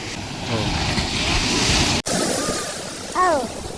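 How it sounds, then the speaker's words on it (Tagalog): Ocean surf rushes and crashes in a steady roar under gusting wind on the microphone at a seashore near sunset, with a brief dropout midway and a few short voice-like calls rising near the end. "the waves are striking"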